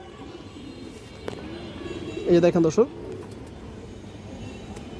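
A giribaj high flyer pigeon gives a short, close burst of cooing while someone speaks over a quiet outdoor background.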